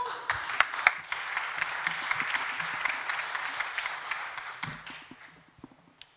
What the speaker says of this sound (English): Please come and huge applause